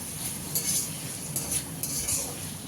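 Potatoes are stir-fried in spices in a pan, with a soft continuous sizzle. Light scraping strokes from a utensil recur every half second or so, close by.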